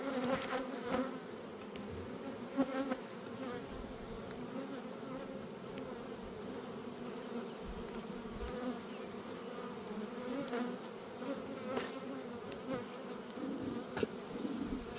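Honeybees buzzing steadily in a full, crowded hive during a summer hive check, a dense continuous drone close to the listener with no talking.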